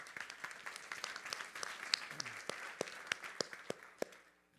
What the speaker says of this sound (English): maybe we should applaud the program chairs to do a fantastic job doing that